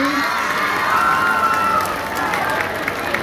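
A crowd at a gay beauty pageant cheers and shouts loudly with steady clapping mixed in, a dense, continuous roar of many voices.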